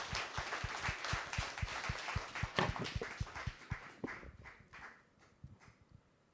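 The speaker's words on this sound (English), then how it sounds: "But can we all give a clap of hand for such a wonderful sharing?" An audience applauds at a talk on innovation and entrepreneurship in Israel, a dense burst of clapping that peaks and then thins to a few scattered claps toward the end.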